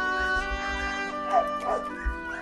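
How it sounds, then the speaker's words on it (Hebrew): A dog at a kennel gives short yips and whimpering whines, close and moderately loud, over a steady background hum. "זה כלב שמצאה אותו, זרקו אותו לג'אנט."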